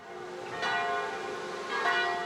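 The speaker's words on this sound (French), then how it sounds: "les cloches de l'église résonnent sur tout le Mont-Saint-Michel" A church bell at Mont-Saint-Michel rings out twice, its strikes ringing and overlapping with a resonant, lingering hum.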